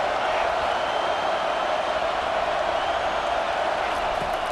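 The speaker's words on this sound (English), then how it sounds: "this crowd trying to help keep them there" A stadium crowd in the EA Sports College Football 25 video game gives a dense, steady roar that holds at an even level for the whole stretch, with no clear cheers or breaks.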